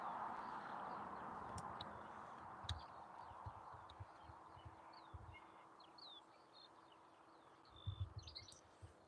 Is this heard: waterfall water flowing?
no